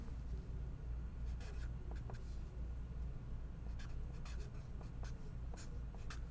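Chalk or marker scratching out the ideal gas law on a board in a physical chemistry lecture, a series of quick, faint strokes over a low room hum.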